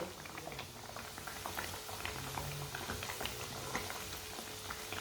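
Chicken and gram flour patties frying in a pan, a quiet, steady bubbling sizzle with a dense patter of small pops throughout.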